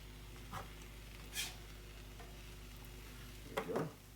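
Bacon sizzles under a lid in a pan with a soft, steady crackle, broken by a few brief louder pops and a scrape near the end; no one speaks.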